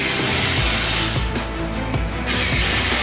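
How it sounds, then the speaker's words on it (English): Power drills driving screws into bits of wood in a timed contest, a continuous whirring grind with short pauses and bursts of renewed driving, loud and close throughout. "screws into bits of wood."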